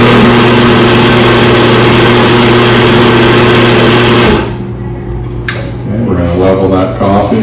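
Espresso machine brewing a shot in a café before service, a steady loud mechanical pump hum and buzz that cuts off partway, followed by quieter clatter and faint voices.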